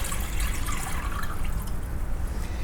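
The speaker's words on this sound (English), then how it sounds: "Here's cold water. I mean, from tap water, 1 liter, 1000 cc here. Put into the pot." Cold tap water, about one liter, poured into a pot for soup stock, a steady, close trickling and splashing that runs evenly without pause.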